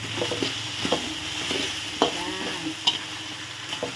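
Crispy fried catfish with Thai eggplant being stir-fried with sugar, a steady sizzle under repeated scraping stirs of the spatula against the pan, close and continuous.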